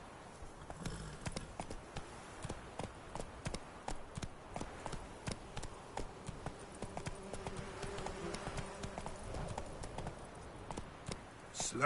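A horse's hooves clip-clop at a steady walking rhythm in Witcher 3, the close, crisp knocks repeating evenly over a quiet game background.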